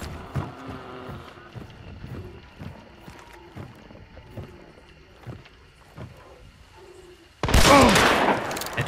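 Gunfire in a video game: scattered soft clicks and taps lead up to a sudden loud, dense burst of shots near the end that stays heavy until the clip closes.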